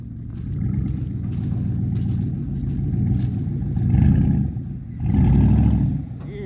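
A vehicle idles and pulls while backing a trailer carrying a 1972 Volkswagen Beetle, a low steady engine rumble that swells twice near the end, with people talking over it.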